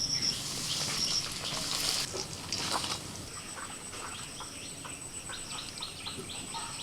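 Egg-battered pieces of cheap lote fish frying crisp in hot oil, a steady soft sizzle and crackle with a brief louder burst of spattering near the start, fading to a quieter continuous fry.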